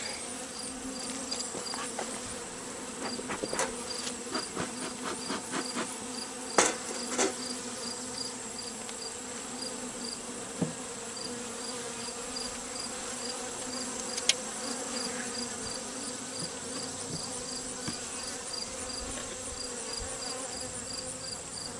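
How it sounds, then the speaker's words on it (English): Agitated honeybees swarm around an opened hive during an inspection, a dense, continuous buzzing drone close by, with occasional sharper knocks and clicks from handling the hive. No one speaks. "I'm going to step away from the hives, let them calm down, because they're getting stirred up big time."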